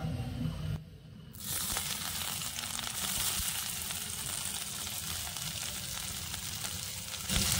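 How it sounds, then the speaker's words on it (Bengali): Chopped large onion tipped into hot oil sets off a sudden loud sizzle that settles into a steady, hissing fry, with a brief lull just before the onion goes in. "এখানে আমি তেলটা ভালো করে গরম করে নিয়েছি। এবার আমি এখানে একটা বড় সাইজের পেঁয়াজ কুচি করে নিয়েছিলাম, তো পেঁয়াজ কুচিটা দিয়ে দেবো"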